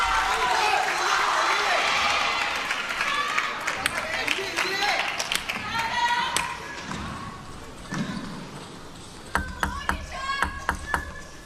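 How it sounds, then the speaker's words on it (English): Applause rises from the crowd at a China versus Korea table tennis team quarterfinal in London, a dense spread of claps followed by sharp ball pings and bounces, with commentary running over it. "And the GOAT applauds as well."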